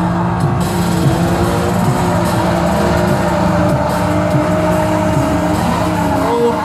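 Drift car joining another on a track at a drift cup round in Jelgava, engines roaring and revving continuously with tire squeal and skidding, loud and sustained throughout.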